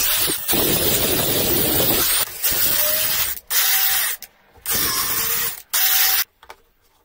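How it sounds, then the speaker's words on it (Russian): Welding a threaded rod onto a metal piece: loud, close bursts of harsh crackling hiss, several separate runs of a second or so broken by silent gaps, no talking. "Сейчас сварим шпилечку сюда еще."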